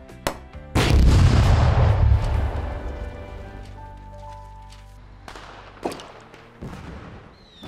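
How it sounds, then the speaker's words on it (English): Fireworks and rockets bursting on bonfire night: a sharp crack opens, then a loud booming explosion rumbles and slowly fades, with further pops and bangs scattered toward the end. "Why are there all these small explosions?"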